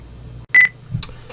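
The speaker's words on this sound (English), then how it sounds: "that was an alarm that needs to be observed" An electronic alarm gives a single short, shrill beep close by, followed by a couple of faint clicks against a quiet, low hum.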